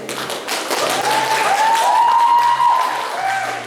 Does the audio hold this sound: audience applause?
yes